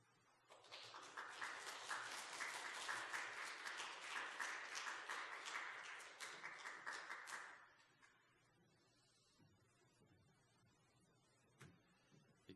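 A church congregation at a Sunday worship service claps for newly appointed teachers. The applause rises into a full, sustained round lasting several seconds, then thins into scattered claps and dies away to near silence.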